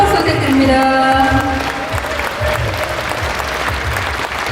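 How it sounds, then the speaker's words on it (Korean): Large audience applauding steadily at an international conference on basic income in Gyeonggi Province, Korea, after a keynote speech; dense, sustained clapping fills the hall, with a faint voice over it at the start. "여러분 다시 한번 큰 박수 부탁드립니다"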